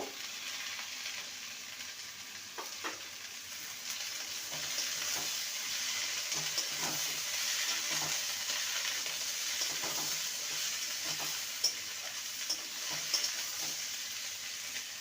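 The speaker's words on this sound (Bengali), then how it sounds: "গ্যাসের ফ্লেমটাকে লোতে রেখে কাঁকড়ার আলুকে ভালো মতন ভেজে নেব" Kakrol (teasel gourd) and potatoes fry in a pan over a low gas flame, giving a steady, soft sizzle with occasional clicks and scrapes of stirring.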